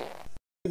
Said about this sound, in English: you call that a fart?